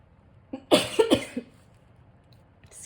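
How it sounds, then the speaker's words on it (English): A person coughs in a short burst of several rough, close coughs, followed by quiet, while working on a junk journal craft project at a table. "Still have a little bit of a cough."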